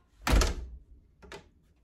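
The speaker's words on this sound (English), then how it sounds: "let me just get this door for y'all." A van door slides and slams shut with a loud, close thunk, followed by a fainter second latch click a moment later.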